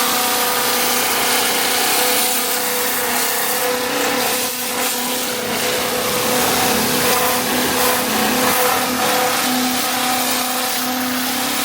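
A Giraffe Tools UltraFlow 1000H pressure washer sprays a car's suspension parts, including a lower control arm, with a loud, steady motor whine and hissing water jet. The sound runs without a break, is close, and has no talk over it.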